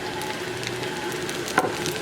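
Onions frying in oil in a pot, a soft steady sizzle running throughout at low level, with one brief clink partway through.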